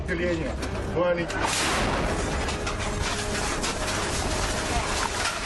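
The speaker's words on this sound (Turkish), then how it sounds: "Kameralar kayıttayken çok sayıda basın mensubunun bulunduğu binanın yanına bir bomba isabet etti." A bomb hits near a building full of journalists during the Russia–Ukraine war, a loud sudden blast a little over a second in, followed by a sustained rumbling roar, with brief voices before it.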